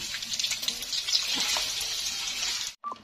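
Oil frying with ginger garlic paste, cumin and whole red chilies, a steady bright sizzle close up and fairly loud, with faint stirring scrapes, cutting off abruptly near the end before a brief clink.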